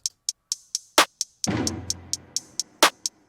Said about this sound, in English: It's just a quarter note delay into a reverb, pretty big reverb.